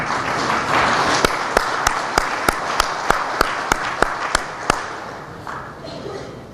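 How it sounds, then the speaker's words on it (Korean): Audience applause at a coaches' seminar held by a sports association: a steady crowd clapping under which one close, crisp clapper beats out a regular rhythm before the sound tapers off. "우리 박수로 한번 격려해 주시죠."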